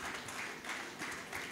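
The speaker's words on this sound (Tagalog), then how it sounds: "Isa pong malakas na palakpak ng papuri sa ating Panginoon." A church congregation breaks into steady, dense applause in praise, a soft continuous wash of many hands clapping that holds level across the moment without pauses.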